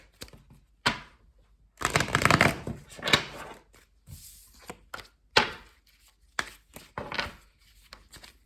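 Tarot cards being shuffled by hand in a series of quick, crisp riffles and soft thumps separated by short pauses, close and fairly quiet.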